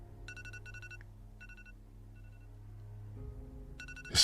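A morning alarm rings in short repeated electronic beep bursts, fairly faint over a low steady background hum, pausing briefly before starting again.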